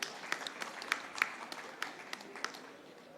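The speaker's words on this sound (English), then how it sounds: "Let's have a huge round of applause, ladies and gentlemen." An audience at a panel session claps in a small scattered round, individual claps standing out sharply over a faint wash of applause, fairly quiet and distant.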